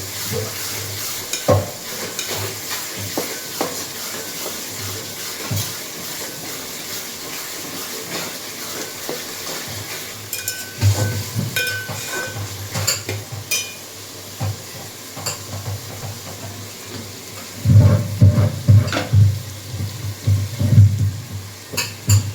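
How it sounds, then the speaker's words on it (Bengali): Ginger-garlic paste and cumin paste frying in a pan for a goat meat and papaya curry, with a continuous soft sizzle, scraping stirs and clinks of a utensil against the pot, growing louder and busier toward the end. "এবার খুব করে মশলাটাকে কষিয়ে নেব, আদা রসুন বাটাটাকে খুব করে ভেজে নেব"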